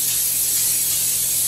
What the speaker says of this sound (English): We're going to spray it down with some high temperature canola spray.